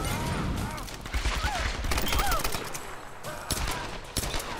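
Gunfire erupts in the Tomb Raider video game, a loud burst of shots with sharp cracks and clattering bursts spread across the clip, while a voice talks briefly underneath.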